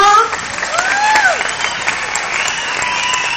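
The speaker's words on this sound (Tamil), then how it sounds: "அதுக்கு நீங்க எப்படி கைத்தட்டு கொடுக்கணும்?" An audience at an Indian cultural festival variety night in 2011 bursts into loud, sustained applause, with a few high whistles rising over the clapping.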